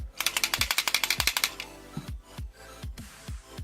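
A deluxe Kamen Rider Build Full Bottle toy is shaken quickly, giving a fast run of bright, higher-pitched rattles, then several slower, duller knocks, close by and without voices.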